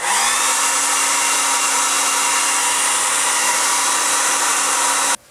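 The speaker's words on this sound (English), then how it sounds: "Now we'll hit it with the blow dryer a bit." A blow dryer blasts air onto a silicone lure mold, a loud, steady whine-and-rush held for about five seconds before it cuts off abruptly.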